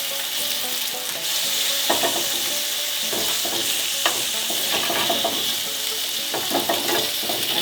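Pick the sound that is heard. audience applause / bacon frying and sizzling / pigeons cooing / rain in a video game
bacon frying and sizzling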